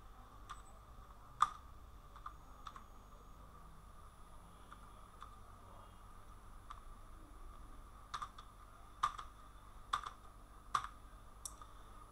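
Names being typed on a computer keyboard in Excel: faint, sparse key clicks scattered over a quiet background hiss, with a short cluster of sharper taps near the end.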